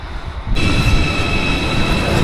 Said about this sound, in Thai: ทุกคน รถไฟมาแล้ว